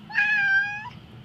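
A house cat gives a single clear meow, close and alone, lasting under a second before fading into quiet room tone.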